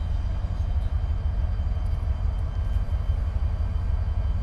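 A Norfolk Southern locomotive and its train roll past, producing a heavy, steady low rumble that stays loud and close throughout.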